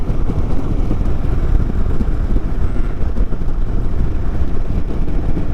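An Indian Super Chief motorcycle on the road, a dense, steady low engine rumble mixed with heavy wind buffeting against the helmet throughout, loud and continuous with no speech.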